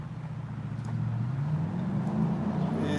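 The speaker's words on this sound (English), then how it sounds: "There's the loud engine sound car that I was hearing synced." A car engine rumbles loud and close as the vehicle moves past a crosswalk, a steady low drone that swells and holds for about three seconds with no talking.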